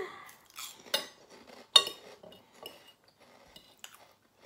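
Cutlery clinking and scraping on a plate while mie goreng rendang is eaten, with close, irregular taps and a few sharper clinks spread over several seconds and no talking.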